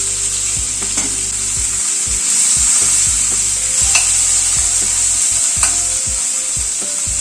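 A large chopped onion fries with cumin seeds in a pan over a medium gas flame, making a constant close sizzle broken by repeated scraping strokes of stirring.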